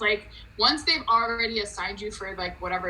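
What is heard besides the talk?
No distinct noise like a dog, phone or traffic.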